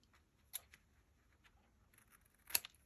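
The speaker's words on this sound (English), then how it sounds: "Where'd my scissors go? I'm going to use these." Two crisp, separate snips of scissors cutting paper, quiet and close, with a small rustle between them.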